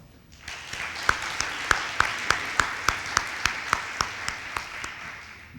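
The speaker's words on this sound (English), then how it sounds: "please give them another round of applause" Applause from a State of the City audience in San Angelo, steady clapping with a few hands striking in a regular, evenly spaced rhythm that stands out above the wash for about five seconds.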